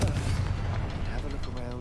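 Confringo blasting spell cast in Hogwarts Legacy, a dense rumbling burst of explosive booms filling the whole moment, with game voices or music faintly mixed underneath.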